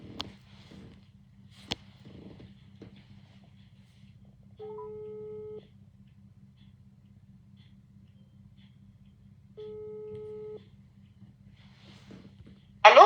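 A telephone ringback tone sounds while a call is placed, two steady tone bursts several seconds apart over a low background hum, with faint noises and a voice at the start and end.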